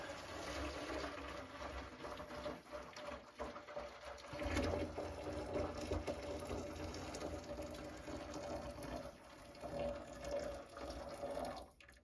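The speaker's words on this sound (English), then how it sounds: "So I got my kettle here with some hot water." Hot water pours steadily from a kettle into an ultrasonic cleaner, making a continuous splashing rush that lasts throughout at a moderate, close level.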